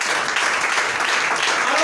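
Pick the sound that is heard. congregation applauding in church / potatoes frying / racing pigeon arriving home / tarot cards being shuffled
congregation applauding in church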